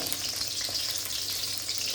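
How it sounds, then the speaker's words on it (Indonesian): Egg frying in a pan, made while cooking nasi goreng, gives a steady, close sizzle and crackle of hot oil that runs unbroken through the short stretch with no voices. "Kita goreng dulu sampai benar-benar matang."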